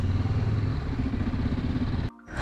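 A motorcycle ridden through a toll plaza on a road near Darjeeling, West Bengal, gives a steady, close engine drone mixed with wind rumble that cuts off abruptly just before the end.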